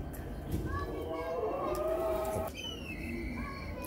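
A pigeon coos softly on a Lahore rooftop among a keeper's birds, its low, repeated calls set against constant outdoor background noise, with thin chirps from other birds layered on top.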